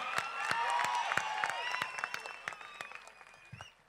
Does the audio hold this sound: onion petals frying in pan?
no